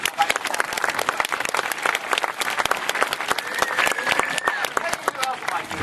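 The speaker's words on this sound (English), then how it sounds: "we'll give you a nice big clap." An audience at a sea lion show applauding steadily, dense rapid clapping at an even loudness throughout, with a few voices faintly mixed in.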